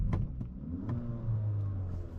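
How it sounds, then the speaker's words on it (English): A 2024 Kia Forte GT with dual-clutch transmission and active exhaust drones at a low, steady rumble from inside the cabin, with a few faint clicks and a slight rise in engine note. "It has a nice little active exhaust."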